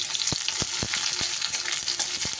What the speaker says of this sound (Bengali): তেলটা গরম হলে এবার এর মধ্যে দিয়ে দিচ্ছি অর্ধেকটা পরিমাণ পেঁয়াজ